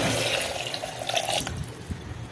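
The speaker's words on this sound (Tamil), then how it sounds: "இப்போ வந்து தேங்காய் பால் வச்சுருக்கோம்ல 2 டம்ளர், அதை ஊற்றிடலாம்ல" Coconut milk poured into a cooking pot for pulao rice, a steady liquid splash running close and continuous for about two seconds with no talking.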